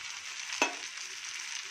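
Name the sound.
sautéing coconut mixture in a pan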